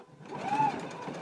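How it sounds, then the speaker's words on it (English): A sewing machine runs a regular stitch along the basting line of a pair of pants, a short steady mechanical whir, fairly quiet and close, with no talking. "we can go ahead and take it back to the machine and do a regular stitch right along our basting line"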